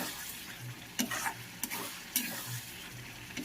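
Chicken skin fries in a small amount of oil with a steady crackling sizzle, broken by a few sharp scraping stirs of a utensil against the pan, close and moderately quiet, without speech.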